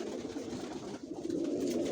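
Adult racing pigeons coo steadily in a loft, a continuous close, low, soft burbling that fills the whole moment with no talk.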